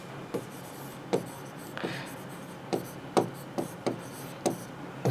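Chalk or marker strokes tapping and scratching on a board during a chemistry lecture, a series of about a dozen short, sharp, irregular hits with one longer scraping stroke, close and clear over a quiet room.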